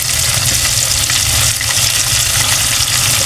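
Chicken feet simmer in tomato sauce for a caldereta in a pan, a steady loud sizzle and bubbling that runs without a break from start to finish.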